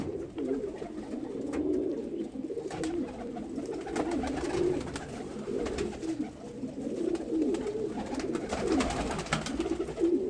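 Soft, low pigeon cooing murmurs steadily throughout, with faint background rustling and no talking.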